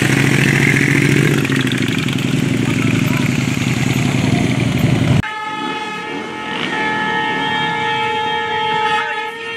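Motorcycles idle near a group of runners training, a rough broadband rumble with voices, then a steadier, humming idle tone close by.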